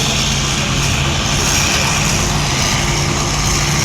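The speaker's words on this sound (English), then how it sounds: "There go the road engines past us." Steam road engines rumble past at a heavy haulage display, a loud, continuous, close mechanical roar that stays level the whole time, with no talk over it.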